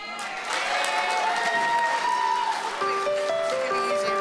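Wedding reception guests applaud a toast to the newlyweds, a steady wash of clapping and crowd noise that swells after the first half second and stays dense throughout, with sustained musical tones rising in the background.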